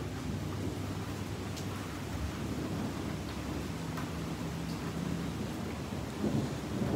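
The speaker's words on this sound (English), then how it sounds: "If you guys see that, woo, that is thunderstorm." A thunderstorm with rain heard from indoors near a dorm room, a constant dense wash of rainfall with low rolling thunder rumbling beneath it, steady from start to end and with no voices.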